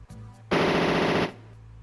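A Gatling gun in the Power Dolls mecha game on MS-DOS lets loose one loud, rapid burst of about three-quarters of a second, a dense rattling roar standing out sharply from quiet game hum before and after.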